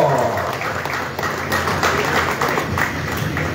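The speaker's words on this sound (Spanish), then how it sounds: "¡Venga los aplausos!" Applause breaks out at a motocross press conference in Zona Oriente, a dense, steady patter of many hands filling the room at moderate volume, with faint voices mixed underneath.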